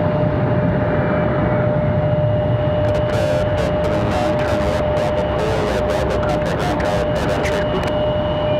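A Delta airliner arriving from Tampa at Raleigh-Durham airport rumbles steadily and loudly throughout, with a sustained tone and crackling bursts of noise in the later part.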